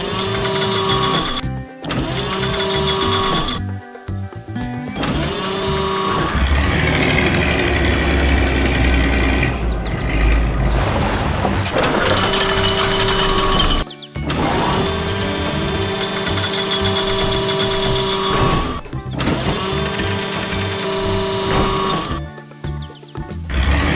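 A yellow loader's engine works on a farm while giant sunflowers are loaded, running loud and steady for the whole stretch, with a few brief sharp cutouts and shifting mechanical tones.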